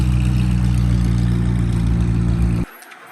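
A white McLaren 720S sports car idles with a steady, throbbing exhaust burble close by, loud and even for a few seconds before cutting off abruptly.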